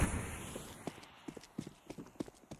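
Enemy footsteps retreating in Counter-Strike, a quick run of light, regular steps with a faint, distant feel under low game ambience.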